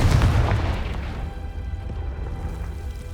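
A Confringo fire spell explodes in Hogwarts Legacy, a heavy booming blast with a rumbling low-end tail that stays dense and loud, then slowly fades over a few seconds.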